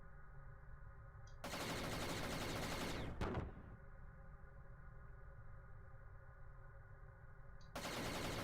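An explosion sound effect for a Godot space game with a Star Destroyer enemy: a dense, roaring blast of noise with a sharp crack partway through, then a second surge, loud and alone.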